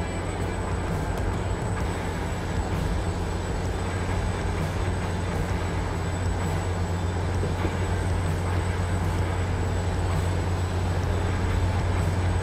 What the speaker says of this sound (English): Speaking of trains, there it is.